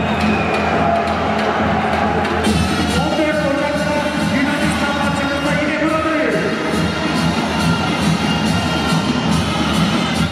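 Spectators packing the Hasan Dağı sports hall roar and cheer after a national team match, a dense, steady wall of crowd noise that holds at full loudness throughout.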